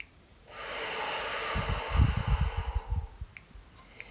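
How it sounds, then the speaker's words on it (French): One person does a diaphragm breathing exercise: a long, steady, airy exhale through the mouth, then a series of short, close, snorting inhales through the nose, with no talking. "J'expire par le ventre. Mes côtes se resserrent naturellement. J'inspire."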